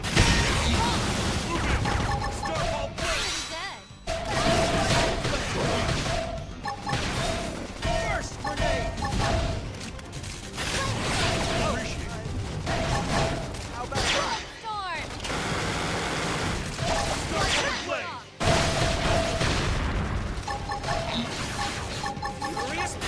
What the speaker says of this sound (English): I like spraying them with gunfire.